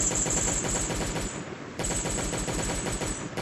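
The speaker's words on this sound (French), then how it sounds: "vu que j'ai plus de gun, bah pareil, j'utilise la mitraillette" A submachine gun fires at a zombie in the video game Last Day on Earth in rapid automatic bursts, a brief gap splitting two long strings of shots.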